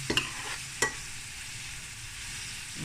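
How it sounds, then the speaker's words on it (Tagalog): Onion sizzles softly in a hot pan under a steady crackling hiss, with a couple of sharp stirring scrapes near the start. "Then the onion. Lutuin kong maigi."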